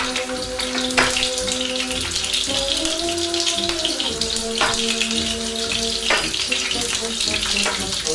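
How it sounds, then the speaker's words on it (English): Spicy meatballs sizzle and spit in a hot pan, a steady bright crackle of frying with occasional sharper pops and faint tonal clinks throughout, close and fairly loud, with no one talking. "Get these meatballs cooked, we need to get them sealed. Let's get them in the pan."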